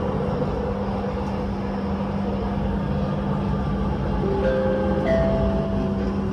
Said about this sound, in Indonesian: Kereta akan tiba di Cawang.